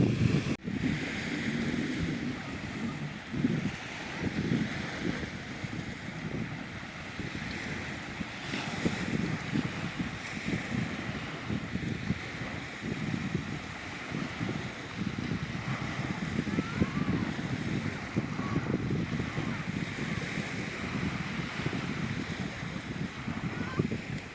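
Sea waves wash onto the shore in Tuscany, Italy, on an October day, a steady surging roar of surf with wind buffeting the microphone, the rolling wash continuing without a break and no speech.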